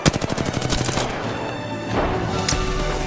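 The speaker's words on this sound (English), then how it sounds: "Wait, who's shooting?" Rapid video game gunfire rattles loudly in dense bursts through the first second, then gives way to a steadier, busier mix of game sounds with a sharp crack near the end.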